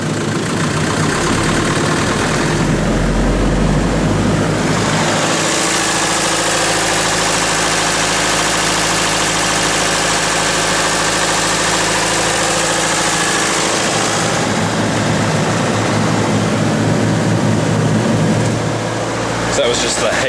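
A Mitsubishi Canter 4WD truck's engine idles steadily and close by, a continuous low rumble with slight knocking vibration that changes tone partway through, running throughout.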